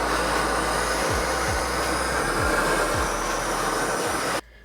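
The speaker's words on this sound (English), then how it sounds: "first step is to torch the inside of where the race goes" A torch roars steadily as it heats the inside of a dirt bike frame's steering stem race seat, a loud continuous rushing hiss with low pulsing, cutting off abruptly near the end.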